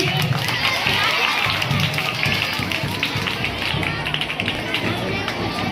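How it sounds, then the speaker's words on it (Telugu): A crowd at a school parents' meeting applauds in a dense, steady patter of clapping that runs throughout, with faint voices murmuring underneath. "గట్టిగా చప్పట్లు కొట్టాలి."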